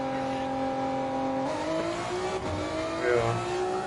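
Race car engine hums steadily with rising and falling revs in a game, a continuous moderate drone with brief pitch swoops.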